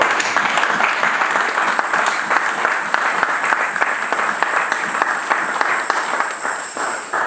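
A church congregation applauds during a sermon: loud, continuous clapping from many hands, steady throughout and easing slightly at the end.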